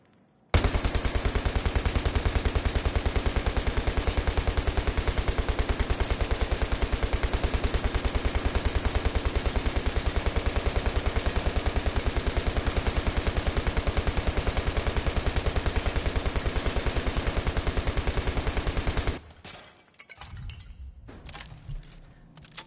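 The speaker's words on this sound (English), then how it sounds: "That was 200 rounds just going through the gun right there, without needing a reload." An M240B machine gun in Battlefield 3 fires one long unbroken burst of 200 rounds without a reload, loud and dense, then cuts off abruptly into quiet background noise.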